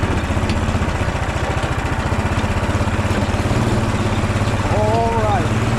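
A 440cc go-kart engine runs nearby with a steady, fast, pulsing chug like a lawn mower. A short rising whine enters near the end, and a voice is heard briefly over the engine.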